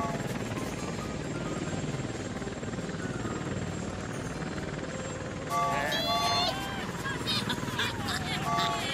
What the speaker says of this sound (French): Ne t'inquiète pas, Polly, l'hélicoptère va venir te chercher.